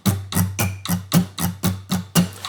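Acoustic guitar strummed in steady straight eighth notes, nine even strokes over two and a half seconds with a low thump on each beat, clear and close with no voices.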